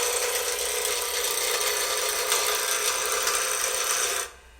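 An Easy Wood Tools turning tool cuts straight into a spinning wooden workpiece on a lathe, making a loud, continuous rasping shear that holds steady for about four seconds and then stops abruptly.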